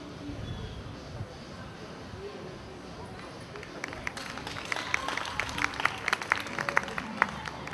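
An audience at a medal ceremony in Conakry breaks into applause, beginning sparse and growing into dense, steady clapping from a moderately distant crowd.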